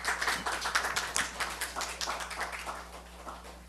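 A church congregation claps during a morning worship service, a fairly faint but busy patter of individual hand claps spread through the room, with no voices over it.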